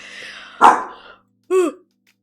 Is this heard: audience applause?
no